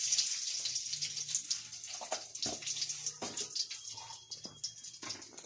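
Mustard seeds and fennel splutter in hot oil, a close, quiet crackle of scattered pops and spits over a bright hiss that keeps going.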